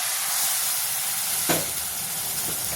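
Steady sizzling hiss of a frying pea and tomato vegetable mixture in a pan after water is added, with a soft clunk partway through and no talking.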